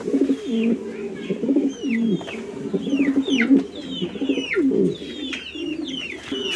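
Several Roman Gar pigeons in a breeding loft at a sale coo repeatedly, close rolling throaty calls in steady overlapping bursts, with scattered higher chirps from other birds.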